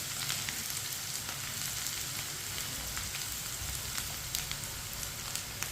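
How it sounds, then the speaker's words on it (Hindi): Finely chopped onions frying and browning in a pan for mash daal, a faint, steady sizzle with soft crackles and no voices. "प्याज को हल्का सा ब्राउन कर लेंगे।"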